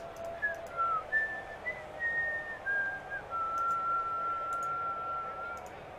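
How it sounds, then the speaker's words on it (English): A person whistles a short wandering melody, clear and fairly close, with sliding pitch changes and a few faint clicks in the background during a Blood Bowl tabletop game session. "That was a nice whistle"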